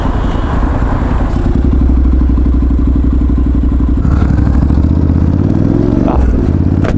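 A Kawasaki Vulcan motorcycle engine thumps loudly and steadily up close as the bike is ridden, with a rhythmic low pulse that shifts as the revs change, plus some clatter and wind buffeting.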